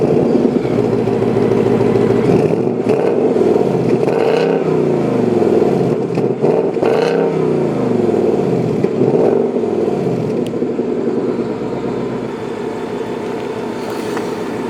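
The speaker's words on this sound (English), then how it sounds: "that about wraps up actually driving the new Mustang" A 2018 Ford Mustang GT driving around town, its engine loud and close as it revs up and eases off in repeated surges, with the tone swelling and falling throughout.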